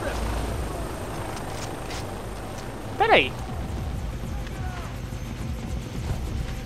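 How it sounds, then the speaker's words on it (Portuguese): A helicopter in the video game Far Cry 3 thrums steadily under someone talking, with a brief louder crash partway through. "Ah, tem helicóptero assim mesmo, galera."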